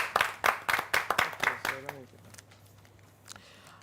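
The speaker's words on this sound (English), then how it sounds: "You may give yourself a round of applause." A small group of housemates clap for themselves after a debate: about eight sharp, fairly close claps in a quick rhythm, then a brief voice as the clapping stops.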